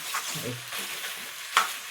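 A spice tempering of chili powder fries and is stirred in a pan for a Telangana nalla fry, with soft sizzling and scraping strokes at an irregular pace. One sharp clink of the utensil sounds near the end.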